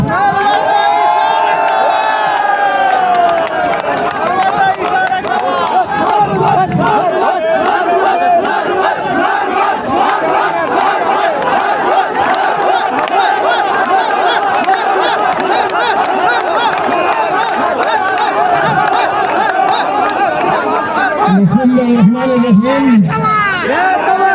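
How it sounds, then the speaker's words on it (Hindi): A large crowd at a political rally in Rawalpindi roars and chants loudly and without pause, with voices shouting over the din and a fresh swell of cheering near the end. "आप सबकी तालियों की गूंज में"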